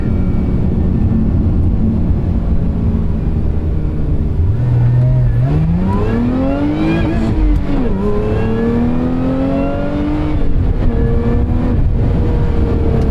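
A 2023 Lotus Emira sports car revving hard on a track, its engine tone rising sharply through several climbing sweeps and dropping briefly between gears, loud and close with constant cabin rumble.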